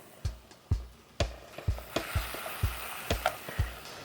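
Ground meat sizzling softly as it browns in a frying pan, with repeated scraping and stirring thuds at an irregular, fairly quick pace, close by.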